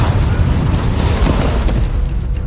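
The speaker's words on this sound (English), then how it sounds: "one of the Taliban fighters detonated the explosive strapped to his body" A suicide bomber's body-strapped explosive detonates among Taliban fighters: a loud, dense blast roar with heavy low rumble sustained throughout, no voices.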